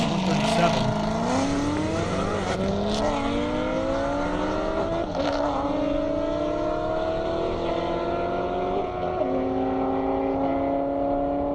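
C6 Corvette accelerating hard down a half-mile airport airstrip drag race, engine note climbing steadily through gears with a shift dip midway, loud and sustained, with an announcer talking over it.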